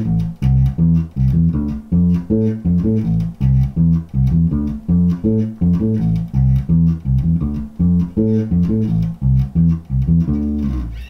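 Ska-style electric bass line played in a steady bouncing rhythm with short, clipped low notes over a full band groove, loud and continuous with no voices.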